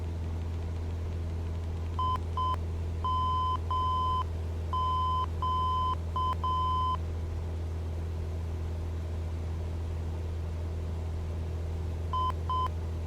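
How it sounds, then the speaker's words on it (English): Cockpit nav audio in a flight simulator game gives clipped electronic beeps in short coded bursts, several groups in the first seven seconds and one more pair near the end, over a steady low hum. "Why is it beeping at me?"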